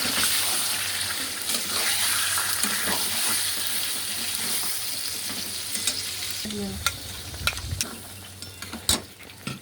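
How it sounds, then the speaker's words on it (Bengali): Spice-laden rinse water from a mixer jar poured into a pan of chicken cooking in masala paste makes a steady, loud sizzle and bubbling, with scattered spoon knocks and clinks toward the end. "আমি একটু মিক্সারটা ধুয়ে জল দিয়ে দিলাম, অনেক মশলা ছিল"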